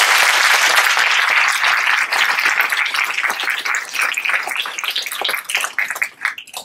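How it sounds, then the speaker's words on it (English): Audience at a 2014 high school graduation ceremony breaking into loud, sustained applause, dense clapping that thins slightly toward the end with individual claps standing out. "Can you please give a round of applause to all of them?"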